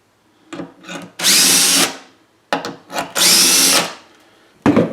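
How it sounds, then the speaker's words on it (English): A power drill boring into a wooden tool box: short revving starts, then two sustained loud whining drill runs, each about half a second to a second long, close up with no talk. "Get one side drilled so I can tension that strap."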